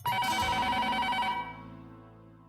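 A telephone rings at the other end while a call is being placed, a steady repeating ring tone lasting about a second and a half before it cuts off and fades.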